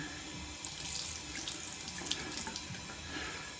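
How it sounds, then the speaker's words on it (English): Water runs from household taps during plumbing work, a steady close splashing stream with no one speaking. "Taps are on fine."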